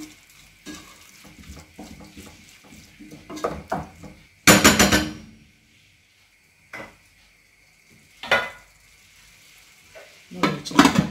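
Egg biryani being mixed in a pressure cooker, with a few bursts of metal ladle scraping and clattering against the pot, followed by a lid being set down, separated by quiet pauses.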